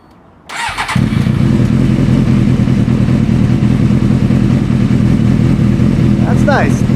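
A Suzuki GSXR 600 motorcycle with a shortened exhaust starts up and settles into a loud, raw, rumbling idle close by, steady throughout with a faint squeak near the end.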